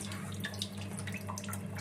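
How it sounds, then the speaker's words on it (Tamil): Meat being rinsed under running tap water, a continuous close splashing and trickling stream with no talk. "இதை நல்லா தண்ணியில் அலசணும்."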